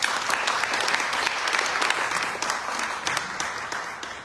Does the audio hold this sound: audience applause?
yes